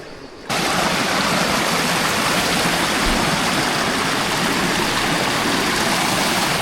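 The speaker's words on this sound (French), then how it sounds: "Des petites mini cascades là. Le bruit, ça donne envie." Small mini waterfalls cascading in a river in the Verdon, a loud, steady close rush of falling water that begins abruptly and continues without a break.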